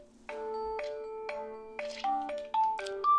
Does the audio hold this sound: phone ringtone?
yes